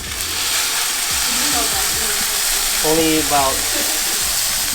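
Part of a bluefin tuna top loin, still fatty, searing hard in a hot pan outdoors, a steady broadband sizzle throughout with people talking over it.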